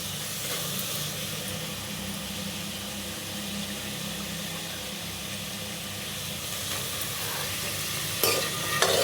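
Onions sizzle and fry steadily in a pan while being stirred, a dense, continuous hiss that stays level throughout, with a louder clatter near the end and no one talking.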